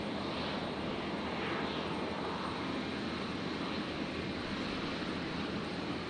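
A Jetstar Airbus A320 jet takes off from a runway at Brisbane International Airport, making a steady, broad roar that holds at a moderate distance throughout, with no talking.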